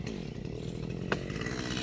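A chainsaw cuts into a large neem tree, its engine droning loud and steady and close throughout, with a brief sharp crack partway through.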